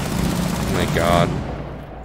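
Automatic gunfire in Rainbow Six Siege rattles out as a fast, steady burst under game ambience, with a person talking over it.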